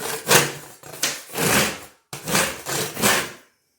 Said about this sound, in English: We want to scrape all that off.